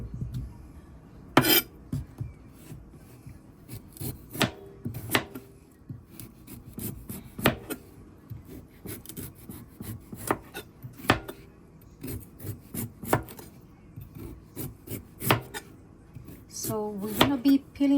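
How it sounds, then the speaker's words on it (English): Repeated sharp knife strikes on a cutting board while peeling and chopping Caribbean root vegetables, irregular and close, mixed with scraping and rubbing sounds, with occasional soft voices in the background. "So we're gonna be peeling and chopping everything."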